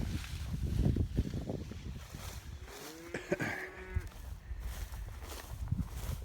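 Cows on calving ground call out in a couple of low moos and bellows mid-stretch, fairly close, over outdoor rustling and handling noise, with no talking.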